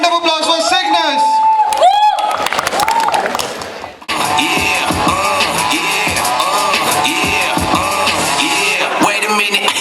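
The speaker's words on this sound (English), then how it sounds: "have a huge round of applause for Cygnus" A crowd at a farewell bash whoops and cheers for a college fashion society. The shouting is loud and close, backed by thumping music and a loud voice over the top. The sound briefly cuts out before the music and crowd resume.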